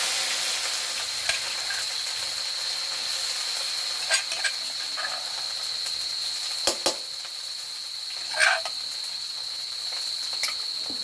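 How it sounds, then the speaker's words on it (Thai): Curry paste stir-fries in hot oil over high heat for a crab basil stir-fry, with a continuous bright sizzle and scattered sharp scraping clicks from stirring. "ผัดพริกแกงละก่อน"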